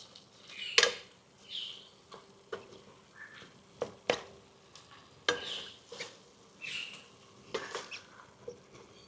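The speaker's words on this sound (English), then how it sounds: "So you just fry it up till it's cooked." Minced pork frying in a pan for Thai larb, a quiet scattered crackle and sizzle with intermittent scraping and stirring taps, close and soft.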